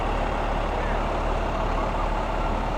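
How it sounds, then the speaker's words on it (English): A fire truck from Isle of Mott rolls by in a Fourth of July parade, its engine a deep, steady, close rumble that fills the short moment, with voices faintly over it. "Another truck, fire truck from Isle of Mott."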